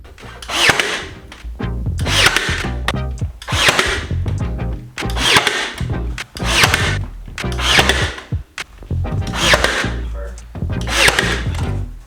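Power tool cutting wood during a bedroom renovation in Alaska: repeated loud bursts of whining, buzzing cutting, each a second or two long with brief pauses, close by.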